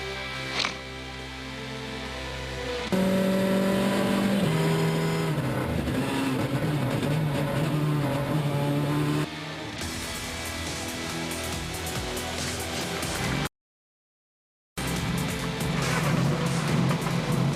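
Mini rally car racing on a European Rally Championship stage in Austria, engine revving hard and shifting through gears across several segments, loud and close, with a brief silent gap.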